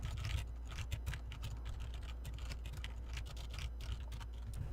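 Rapid typing of code on a computer keyboard, a continuous stream of close, crisp key clicks with uneven rhythm, fairly quiet and with no talking.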